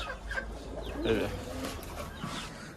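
Quail in a coop call out with short chirps and clucks, a busy flock chattering in the background of a close, slightly noisy farm shed.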